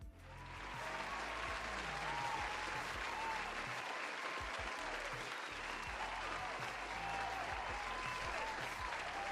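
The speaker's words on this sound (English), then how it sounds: "Let's give Average a round of applause." Steady audience applause fills the whole stretch, a dense, continuous wash of clapping from a crowd with a few faint voices mixed in underneath.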